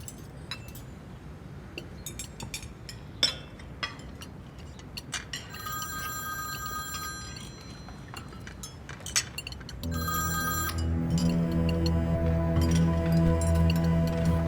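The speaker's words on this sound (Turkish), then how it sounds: "Bir telefon geldi." A telephone rings, faint and intermittent at first, then a loud continuous electronic ringtone takes over and keeps going.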